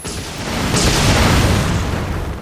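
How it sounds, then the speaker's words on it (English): Explosion in the Final Fantasy 14 video game: a loud, broad blast that swells and then rumbles away over a couple of seconds, with no voices over it. "That was explosion."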